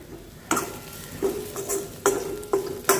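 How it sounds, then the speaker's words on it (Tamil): Spice powder and ground paste for Karnataka vangi bath sauté in a pan, with short bursts of sizzling and scraping stirs at uneven intervals, close and moderately loud, without speech. "பொடியை இதில் போட்டுடலாங்க போட்டுட்டு ரெண்டு நிமிஷம் வதக்கிக்கோங்க"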